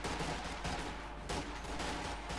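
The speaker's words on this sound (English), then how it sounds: "we got MG34s arriving to support Fortune's frontline Truppen" MG34 machine guns fire in a Company of Heroes 2 1v1 battle as bursts of rapid, dense gunfire with sharp repeated cracks, continuous and fairly loud throughout.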